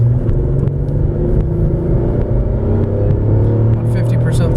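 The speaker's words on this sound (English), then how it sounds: "we'll be doing a 0 to 60 acceleration pull going up a hill, putting maximum load on a vehicle" A 2007 Buick LaCrosse engine pulls steadily under heavy load while accelerating from a stop toward 60 mph uphill, a constant low rumble and drone heard from inside the car with no talk over it.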